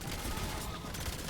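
Fireworks in Black Ops 7 Zombies go off in a rapid crackling barrage of pops and bursts, dense and continuous over a low rumble, moderately loud.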